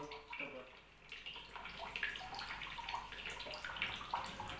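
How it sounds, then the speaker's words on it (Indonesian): Water drains steadily from a container through a hole just uncovered by removing tape in a basic physics lab measurement exercise, a faint continuous trickling and gurgling with small splashes throughout, and no talking. "Dan kita tinggal tunggu airnya sampai habis."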